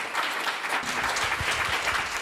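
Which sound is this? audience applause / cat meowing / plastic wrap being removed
audience applause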